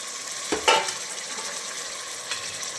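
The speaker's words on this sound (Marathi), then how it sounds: "आता फुलगोबी टाकूया" Cauliflower florets drop into a hot frying pan already seasoned with chilli powder, turmeric and salt, giving a brief burst of sizzle that settles into a steady, close frying hiss with a soft clatter.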